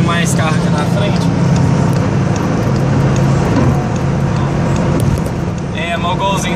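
Steady engine drone and heavy road and wind roar from a VW Gol G6 1.6 car held at top speed, constant and close, with faint voices briefly at the edges.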